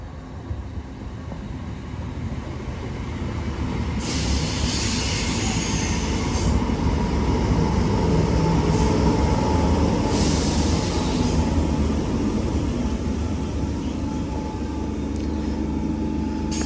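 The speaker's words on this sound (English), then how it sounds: "Train now arriving is Class 319 going to Liverpool Lime Street." A Class 319 electric train arrives at St Helens Junction station, its rumble swelling to a steady close roar with wheel and brake squeals, then easing slightly as it slows.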